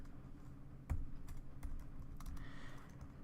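Typing on a computer keyboard, a handful of soft, irregular key clicks close by in a quiet room, with no voices.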